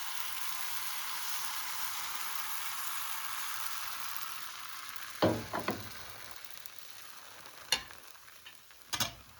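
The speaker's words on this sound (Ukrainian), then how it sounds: "Смажимо наші млинці на добре розігрітій сковороді." Steady quiet sizzling of pancake batter frying in a well-heated pan, broken by a few soft clatters and scrapes near the end.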